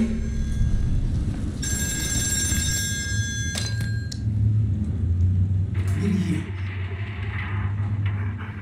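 A telephone rings in a horror game setting, repeated electronic bell tones cutting over a low rumbling room ambience, fairly loud and close, with a few clunks and shuffling sounds following.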